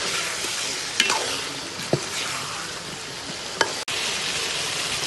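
Eggplant and tomato sautéing in a pan for a hilsa dish, a steady close sizzle with a few sharp clicks and scrapes from stirring and one brief dropout.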